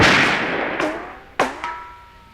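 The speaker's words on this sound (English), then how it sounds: "Simulated gunfire." A lipstick-shaped novelty speaker gadget plays simulated gunfire, three sharp bang-like shots with ringing tails following a fading burst, close and fairly loud.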